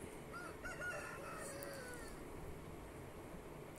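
A rooster crows once, faint and somewhat distant, over a steady low background hiss with no talking.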